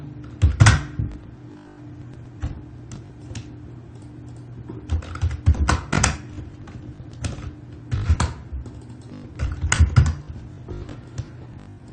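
Computer keyboard typing in bursts of quick key clicks with short pauses, close and fairly loud, while operating Maya 2020 3D software; no talking.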